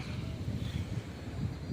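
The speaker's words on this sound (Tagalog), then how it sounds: "sobrang lakas dito ng hangin" Steady strong coastal wind buffeting the microphone, a low rumbling roar that keeps surging and easing for the whole stretch.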